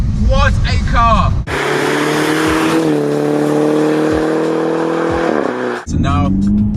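A Mini Cooper S convertible fitted with a Remus catback exhaust revs loudly and close, a sustained engine drone with rising pitch and brief gear-change dips, framed by someone speaking before and after.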